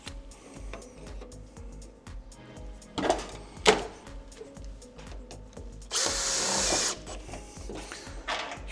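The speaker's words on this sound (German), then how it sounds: "Zweiten Gang in Akkuschrauber, dann geht das alles was zügiger." A cordless screwdriver in second gear drives screws into a standing-seam metal roof ridge, with short bursts of whirring and one longer, louder run near the end amid faint clicks and handling noise.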